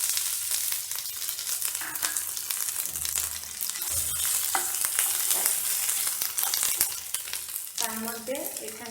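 Ginger paste and chili paste fry in hot oil with a steady, loud sizzle and crackle while a utensil stirs them, close up and without talk, and scraping clinks near the end.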